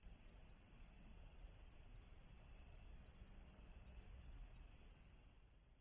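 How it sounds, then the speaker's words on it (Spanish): Crickets chirp at dusk in a steady, high, continuous trill. The sound is faint and distant and runs alone without pause. "A lo lejos los grillos comienzan a frotar sus patitas, produciendo un característico sonido."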